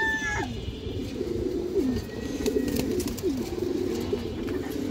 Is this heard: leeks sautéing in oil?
no